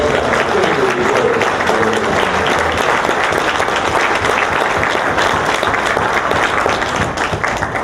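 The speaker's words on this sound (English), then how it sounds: "Let's give them a round of applause." Sustained, dense applause from a large conference audience at an opening ceremony fills the whole stretch at a steady, strong level, with scattered cheers mixed into the clapping.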